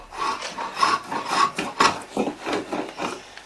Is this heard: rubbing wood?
yes